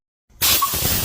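A sudden burst of compressed air blasts into a bolt hole in an engine cylinder head, a loud, close, steady hiss that begins abruptly and keeps going.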